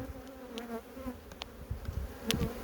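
A spring honeybee colony, strong and lively after winter, hums steadily at the open hive with a continuous drone and scattered closer wingbeat passes; no one speaks.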